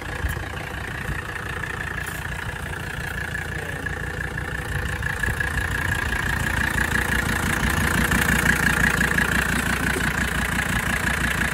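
A 1985 Mercedes 300TD diesel engine idles steadily, a close, continuous rattling clatter that holds even and grows slightly louder, with no talk over it.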